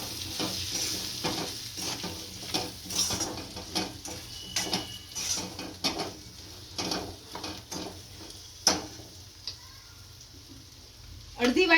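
Spiced Kathiyawadi gunda curry with crushed peanuts and chilli is stirred in a pan, giving a soft sizzle with irregular scraping clicks while someone talks quietly over it.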